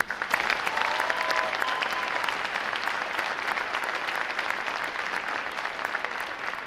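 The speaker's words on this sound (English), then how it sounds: "Ladies and gentlemen, a round of applause for the staff of Recruit Training Command, please." A large crowd bursts into sustained applause for the Recruit Training Command staff at a U.S. Navy boot camp graduation, dense and steady clapping that holds at full strength throughout.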